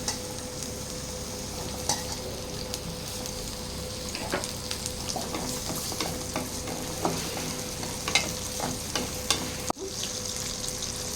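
Small onions (shallots) frying in oil in a pan, giving a steady, dense sizzle throughout with occasional stirring clinks and scrapes close by.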